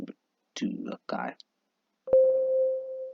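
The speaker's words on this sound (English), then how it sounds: "this synth one shot that I got from this light sample pack" Brief speech is followed by a single synth one-shot from a sample pack: a sharp click-like attack, then a clean sustained tone that holds steady for about a second.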